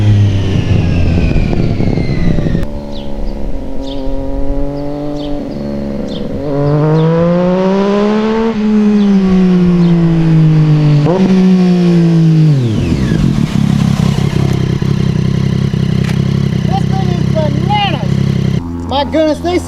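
Triumph motorcycle being ridden and accelerating, loud and close, its engine rising in pitch through several gear shifts, dropping back, then revving up again, with wind noise throughout.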